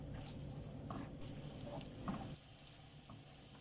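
Sausages frying in butter in a pan, giving a steady, faint crackling sizzle with occasional small pops and a soft stir near the end.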